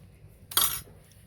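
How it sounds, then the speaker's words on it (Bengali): Spoon clinking against a bowl while Kurkure and Lay's chaat is mixed, a single short bright metallic rattle in an otherwise quiet kitchen. "এমন করে নাচছে চামচ"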